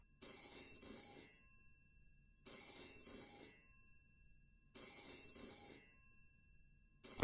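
A phone ringing in VRChat: three evenly spaced trilling bursts, each about two seconds long with short pauses between, moderately loud and with no voices.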